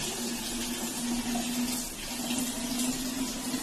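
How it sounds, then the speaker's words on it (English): Water runs steadily from a tap into a bottle being filled, a continuous close hiss and gurgle with a faint rising tone, no voices over it. "she saves water also by closing the tap again and again, and she fills water"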